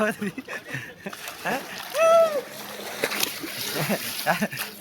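A sharp splash as people jump into the sea at Malvan, Sindhudurg, amid lively voices and chatter, with a brief whistling tone and scattered smaller sloshes.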